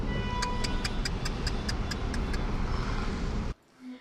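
Steady roar of busy street traffic with cars passing, overlaid by a regular rapid ticking; the noise cuts off abruptly near the end, leaving near silence.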